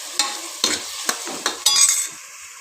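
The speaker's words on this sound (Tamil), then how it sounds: "இப்போ மட்டனை நல்லா போட்டு 2 வதக்கிக்கோங்க" Washed mutton sautéed in a pressure cooker for mutton kulambu, with several distinct stirring scrapes and bursts of sizzle spaced through a short stretch, close and fairly loud.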